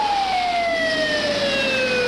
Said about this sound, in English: Within 7 minutes, the first of 2 ambulance crews arrived on the scene to begin treating Ross